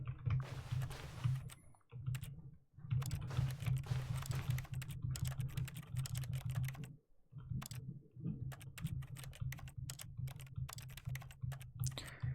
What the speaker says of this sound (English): It sounds like someone typing on a keyboard.